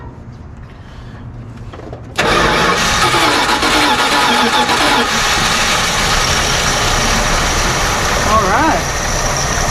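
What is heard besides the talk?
1978 Dodge Ramcharger engine starting and idling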